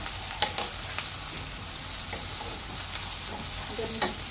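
Squash, string beans and eggplant sauté in a pan with a steady sizzle, punctuated by a few sharp scrapes and taps of a stirring utensil.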